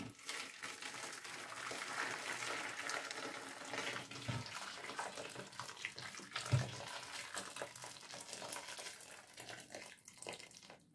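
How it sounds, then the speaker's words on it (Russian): Boiling water gushes over about 600 grams of peaches being prepared for jam, a close, steady pour with splashing and faint crinkling. The stream eases off toward the end, and a couple of soft knocks sound partway through. "Заливаем кипятком."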